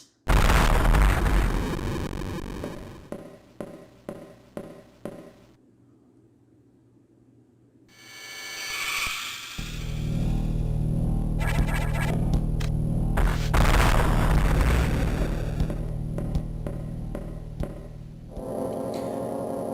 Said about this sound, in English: What was that explosion? It was like an explosion sound.